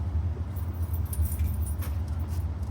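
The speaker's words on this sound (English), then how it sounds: "Drop the keys." Keys drop and jangle briefly with light metallic clinks over a steady low idling car engine, recorded outdoors during an engine repair job.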